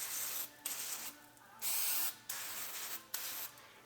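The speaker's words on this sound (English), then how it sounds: "Same stuff, brake cleaner." Brake cleaner is sprayed onto a Honda Civic's brake caliper bracket in several loud, close hissing bursts of about half a second each, separated by short pauses.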